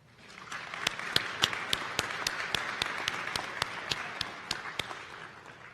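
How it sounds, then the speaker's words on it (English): Audience at an honors convocation applauding award recipients, a steady wash of crowd clapping with one sharp, evenly spaced clap standing out close by, swelling and then fading. "for that wonderful applause for the recipients of the Individual Academic Achievement Awards"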